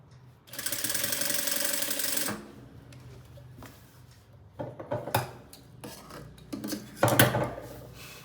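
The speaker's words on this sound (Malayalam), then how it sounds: "ഒരു 5 ഇഞ്ച് താഴെ എല്ലാം കൂട്ടി യോജിപ്പിച്ചിട്ട് സ്റ്റിച്ച് ചെയ്യുന്നു" Sewing machine stitching umbrella skirt fabric, with a steady whirring run of about two seconds followed by scattered clicks, rustles and fabric handling.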